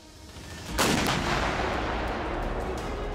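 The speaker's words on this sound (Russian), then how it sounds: "Артиллерийская стрельба – зрелище яркое." A Msta-B howitzer fires a high-explosive fragmentation shell on a training field: a single heavy boom lands suddenly and rolls into a long, loud rumbling decay.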